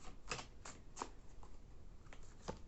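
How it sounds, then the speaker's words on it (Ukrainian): Tarot cards being drawn and slid from a deck: several soft, papery flicks and snaps, close by and quiet, with no talking. "Зараз дві карти витягну"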